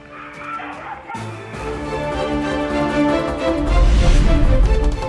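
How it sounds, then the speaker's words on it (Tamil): Street dogs in Madipakkam, Chennai bark and yip repeatedly, the barking loud and close and building in intensity, with faint whimpers mixed in. "விடாமல் துரத்தும் தெருநாய்கள்"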